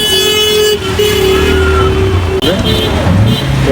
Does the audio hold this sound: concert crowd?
no